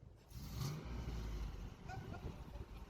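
An LS-swapped Chevrolet El Camino G-body runs in a garage, its engine rumbling steadily with a deep low growl and small surges of revving throughout, loud and close with no talking over it.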